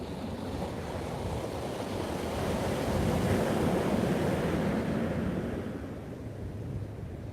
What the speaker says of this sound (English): Just like the ebb and the flow of these waves, washing over you and purifying your soul.